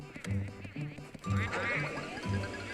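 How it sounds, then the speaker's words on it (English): Ghosts in the Luigi's Mansion 3DS game make quacking, duck-like calls, several short bursts in a row over steady game noise, with no talking. "They make almost like duck noises"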